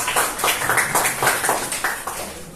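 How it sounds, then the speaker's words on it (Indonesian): Classroom students clapping for a classmate, a short burst of fairly rhythmic hand claps from a small group, close and moderately loud. "Tepuk tangan dulu untuk Najwa."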